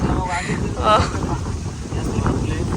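Strong, restless wind gusts buffet the microphone outdoors in an open rural spot, producing a continuous low rumble with surges, while people talk over it.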